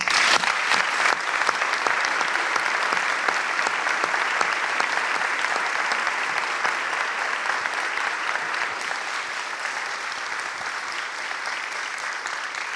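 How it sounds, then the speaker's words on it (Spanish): Sustained applause from a sizeable crowd, dense and steady clapping that holds for several seconds and slowly tapers slightly. "Aplauso para Claudia."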